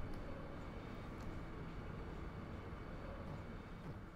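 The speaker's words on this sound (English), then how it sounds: "I love trains" A train in Final Fantasy VIII gives a steady, faint rumbling drone that holds evenly throughout with no breaks or distinct events.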